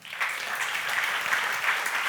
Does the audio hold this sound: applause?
yes